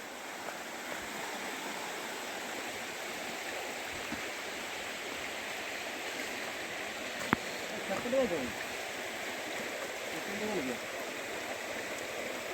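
Steady rushing water of the Machha Kandana waterfall in Similipal, Mayurbhanj, flowing continuously at moderate level, a broad even wash of noise with occasional small splashes, outdoors.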